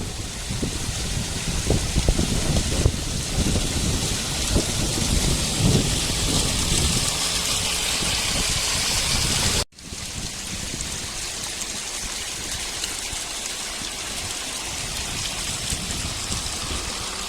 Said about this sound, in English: You can see the mist and rain swirling in up the loch